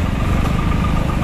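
A tractor pulling a harrow passes along a road, its loud, steady engine chugging continuously at close range with no talk over it.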